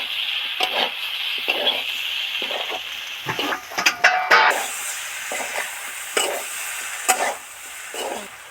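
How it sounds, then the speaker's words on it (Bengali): Spices, turmeric then chili powder, stirred into vegetables frying for an ol chingri dalna, with repeated scraping spoon strokes over a steady close sizzle, the strokes coming in short bursts throughout. "হলুদ গুঁড়ো দিয়ে দিলাম এবার লঙ্কা গুঁড়ো দিয়ে দিচ্ছি ভালো করে নেড়ে চেড়ে মিশিয়ে দেবো"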